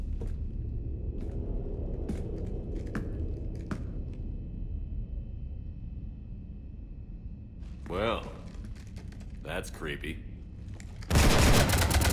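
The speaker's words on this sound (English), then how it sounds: "Shooting up my ship?" Gunfire aboard a ship in the modded Mass Effect 3 Citadel DLC, at the Citadel Docks: scattered shots and a low rumble beneath game dialogue, ending in a loud, close burst of fire.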